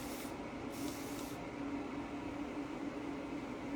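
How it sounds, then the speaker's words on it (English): Steady misty hiss of a water spray bottle spraying curly hair, with two brief stronger bursts near the start over a constant low background hum. "I want to spray this right here because I want that curl to be a little bit better."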